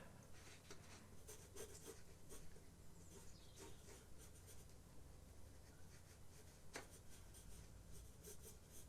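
Graphite pencil scratches on paper in quick, repeated short strokes while drawing hair for a portrait, a faint, close, steady scribbling texture with no voice.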